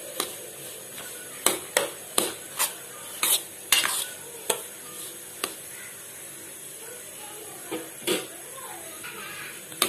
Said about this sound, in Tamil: இந்த நெய்லயே ரவையை நல்லா வறுக்கணும்.